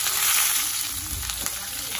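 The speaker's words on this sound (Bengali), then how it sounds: "এবার আমি একে একে সব সবজিগুলো একসাথে ভেজে নেব। পেঁপে দিয়ে দিচ্ছি এখানে" Papaya and other vegetables fry together in a pan for Bengali village-style shukto, making a loud, dense, steady sizzle heard up close in a brief burst.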